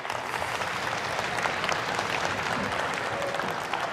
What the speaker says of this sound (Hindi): तालियां बेशक बजाते रहें, खुद ही खत्म हो जाएंगी।